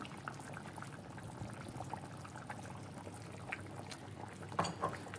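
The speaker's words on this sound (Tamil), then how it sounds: "அடுப்பை அமுத்திட்டேன், ஆனாலும் குழம்பு தளன்னு குதிச்சிட்டு இருக்கோம்" Fish curry (meen kulambu) keeps bubbling in a clay pot after the stove is switched off, a soft steady simmering burble with a couple of sharper pops near the end, with no voices.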